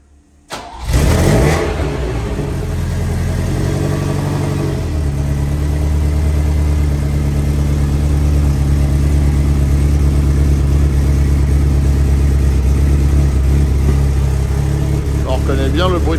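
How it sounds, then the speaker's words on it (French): A Sbarro Super Eight, a car built around Peugeot 308 mechanicals, cranks and fires up, its engine catching abruptly and settling into a loud, close, steady rumble with a brief rev early on. "On reconnaît bien le bruit de la 308."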